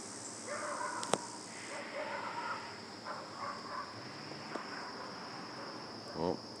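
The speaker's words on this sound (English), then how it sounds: "Cicadas in the background." Steady high-pitched cicada drone runs through the whole clip, fairly faint, with scattered bird chirps, a sharp click and light outdoor noise around it.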